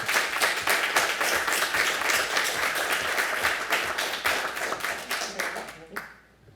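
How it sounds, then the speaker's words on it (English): A crowd at a city council meeting applauds steadily with dense, continuous clapping that tapers off near the end. "If everybody could give her a round of applause."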